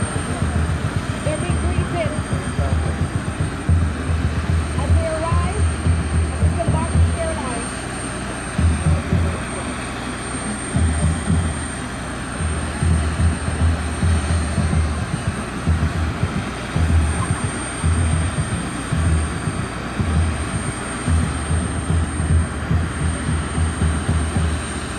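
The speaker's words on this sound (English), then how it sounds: "the aircraft was boarded again with new passengers and left for Miami." An American Airlines jet aircraft departs an airport in Jamaica bound for Miami, its steady low engine roar filling the whole stretch with a pulsing rumble, while faint background voices murmur beneath.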